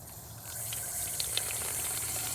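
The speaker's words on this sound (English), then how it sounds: "fill this bottle about halfway with water" Water from a garden hose pours into a plastic bottle, filling it halfway for a homemade bottle rocket, with a steady close gushing hiss and a couple of small splashes, no talking.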